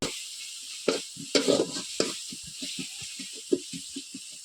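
Powdered masala sizzles in a hot pan as a cooking chicken dish is stirred, with a constant hiss and a quick series of scraping strokes, steady and close.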